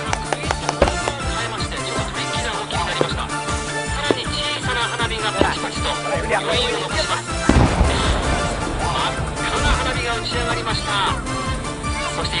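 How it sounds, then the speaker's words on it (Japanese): Fireworks at the 29th Kitaguni fireworks show in Kawakita, Japan, burst in a dense continuous barrage, with rapid crackling pops and booms layered over one another and a louder burst about midway. "さらに小さな花火がパチパチと。"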